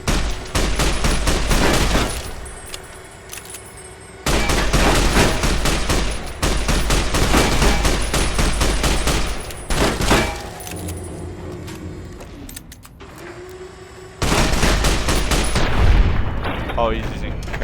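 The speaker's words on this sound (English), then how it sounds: "he's using caravan shotgun. That's why he's only shooting twice" A caravan shotgun blasting in the game Fallout: New Vegas, with loud, sharp bursts of fire in several heavy stretches separated by quieter gaps, alongside other game sounds and occasional talk.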